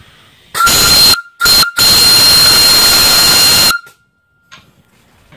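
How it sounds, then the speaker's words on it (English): A new whistle on a live steam boiler blows in loud, piercing bursts, two short toots and then a long sustained blast, fairly close with no talk. "This whistle is new."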